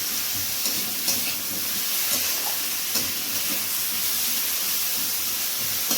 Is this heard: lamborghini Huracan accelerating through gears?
no